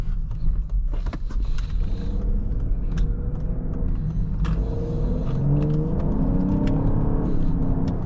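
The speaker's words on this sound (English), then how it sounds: "the engine sounds really good too" A 2022 Lincoln Aviator Reserve accelerating on a test drive, its engine a smooth rising hum and whir inside the cabin with scattered clicks and road noise, no talking.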